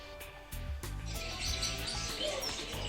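Small birds chirp and tweet in a busy bird shop, with overlapping calls over a steady murmur of cages and room noise, some cooing mixed in.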